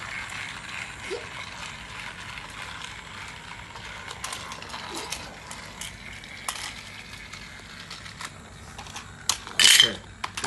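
A Thomas toy train on a ferry playset runs along its track with a faint, continuous mechanical whir and ratcheting gear clicks, ending in a brief sharper rattle.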